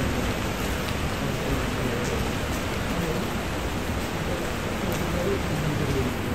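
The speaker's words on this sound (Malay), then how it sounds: "Hujan." Steady rain, heard during a long motorcycle ride in Malaysia, hisses as a dense, even wash of noise for the whole stretch with no break and no talk over it.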